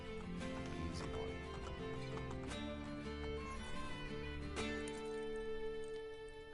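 Horses clop and whinny in Assassin's Creed Brotherhood, with hooves sounding steadily and a few neighs over a continuous background.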